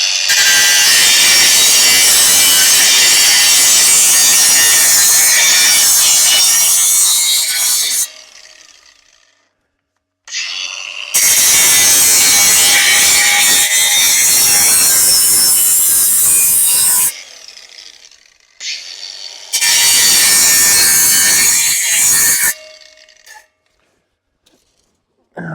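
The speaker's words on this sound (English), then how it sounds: "I've got my trusty grinder and we'll just clean this up." Harsh, high-pitched grinding of an angle grinder on a Duramax truck's metal exhaust pipe, loud and close, running in three long sustained passes separated by brief pauses.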